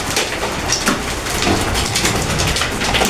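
Small hailstones fall steadily outdoors during a hailstorm, a dense, continuous patter of tiny ice pellets ticking and clattering on surfaces close by, with no speech.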